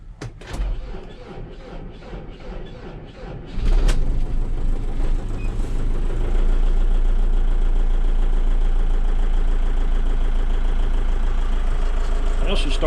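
A Volvo backhoe's diesel engine cranks, catches and settles into a steady, loud idle that grows fuller and holds a constant low rumble, heard from close up inside the cab.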